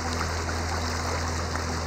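Floodwater from the Chenab river rushes past in a continuous, dense roar of flowing water, loud and steady with no break.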